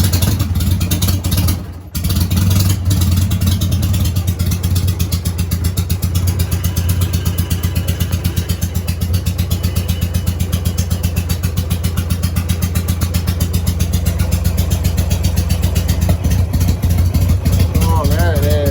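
A 2004 Harley-Davidson Sportster engine catches after a brief stutter and settles into a loud, close, lumpy idle with a steady throbbing pulse and occasional revs, while someone talks over it.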